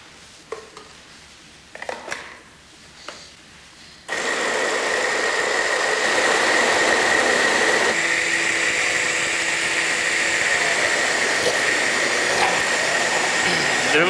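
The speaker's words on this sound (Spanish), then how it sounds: "para que lo pasemos a la licuadora y podamos licuarlo junto con la leche" After a few faint clicks and handling sounds, a blender blending huitlacoche with milk starts up and runs continuously, a loud steady whirring motor hum that continues to the end.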